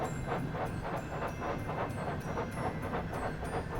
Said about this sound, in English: Oh, we've got double chuffing going on.